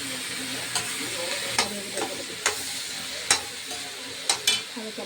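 Tomatoes frying with curry leaves in a pan for coriander chutney hiss with a steady sizzle, broken by several sharp scraping clicks of stirring.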